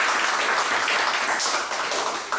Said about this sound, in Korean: 이거 박수 한번 쳐줘야 될까요?